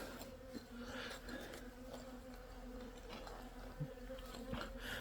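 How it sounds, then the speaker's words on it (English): Many bees buzz around a feeder in a steady, close drone, with a few individual insects passing near and fading out. "Talking about these bees and I'm not showing you"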